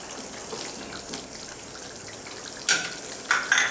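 Gatte dumplings of gram flour tipped into a hot curry pan give a steady low sizzle and frying hiss, with a few sharp clinks and splashes of utensils near the end.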